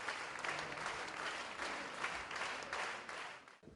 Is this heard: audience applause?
yes